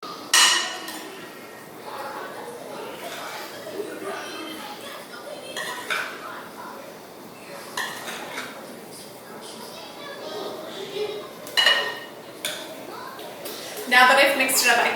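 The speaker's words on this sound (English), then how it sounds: "Gently stir it up." Red potato salad is stirred in a bowl, giving soft scraping and intermittent clinks of a utensil against the dish, close by, while a person talks throughout and a voice is faintly heard.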